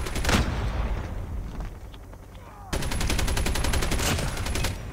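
Sustained automatic gunfire in Call of Duty Mobile, loud rapid-fire rattling bursts that open the clip, fade briefly, then return as a steady stream of shots, with faint talk underneath.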